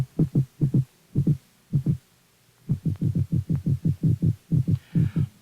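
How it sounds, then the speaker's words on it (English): Toadfish drumming recorded underwater by hydrophone: a series of loud, low, throbbing pulses in quick bursts, a short gap, then a longer steady run of booming beats, close and alone. "The toadfish, for example, uses a loud drumming to declare territorial rights around his selected nesting site."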